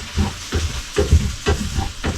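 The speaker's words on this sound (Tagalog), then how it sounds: "Pasensya na kayo kasi medyo maingay yung ating sumasagitsit." Food fries in oil with a loud, steady sizzle, broken by rhythmic scraping bursts of stirring about every half second; no voices are heard.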